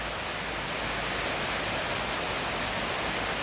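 Steady rain on a morning in Pafos, Cyprus, an even, dense hiss that holds at one level from start to finish with no voices.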